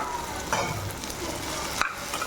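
Thin-sliced potatoes and soaked, boiled peas sautéing together in a pan for pani puri filling, a continuous near sizzle broken by scraping stirs and one sharp utensil knock.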